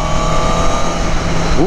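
A naked motorcycle engine, a Honda, revs steadily after a downshift, a loud, close, continuous drone with wind rush, and the pitch starts climbing right at the end.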